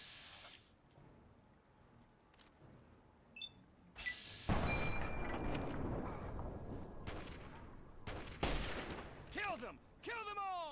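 Gunfire in the video game Fallout 3, with sharp shots and bursts of heavy firing that build into a dense, loud barrage mid-clip, followed by scattered reports and ricochet-like whines, while a voice talks over parts of it.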